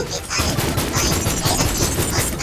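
Pistol fire in the video game Borderlands 3, a loud, dense burst of rapid shots running continuously over a noisy background.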